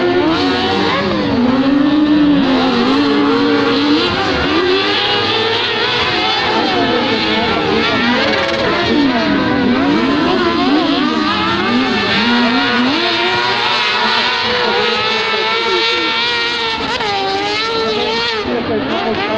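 Autocross race cars roar around a track, loud engines rising and falling in pitch without a break while a commentator speaks over them.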